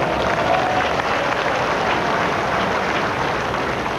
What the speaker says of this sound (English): A lot of sympathy in that applause for Derek Ripley